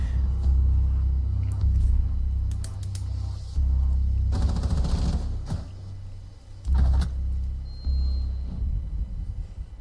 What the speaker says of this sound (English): there comes the wall bang from Craig.